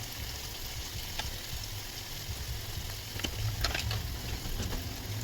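Meat sizzling in a hot pan as turmeric is stirred in, a steady close crackling hiss with scattered sharper pops and spits, no voices over it.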